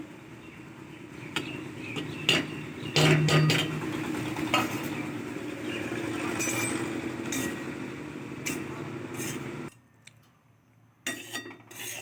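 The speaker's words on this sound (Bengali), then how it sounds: "খোল ভাজা স্টার্ট করে দিলাম" Garlic khol spice mix dry-frying in a pan for a fish bait recipe, with a steady low sizzle and repeated scraping and clinking of a stirring utensil, close up, then briefly quieter near the end.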